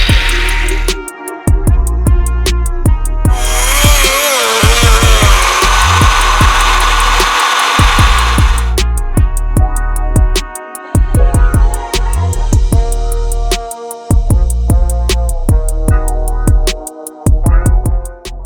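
A power tool bites into the metal base plate of a car's gear shifter in loud grinding and buzzing passes, interrupted by repeated clicks and short breaks, with no voices.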